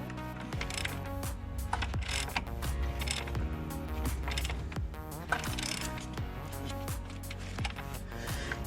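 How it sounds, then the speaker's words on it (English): Near and quiet, a ratchet clicks in quick repeated bursts while turning an adjustable idler pulley tensioner, with a faint mechanical whir and creak between the strokes. "You gotta give it a couple turns to let the tensioner kind of do its work."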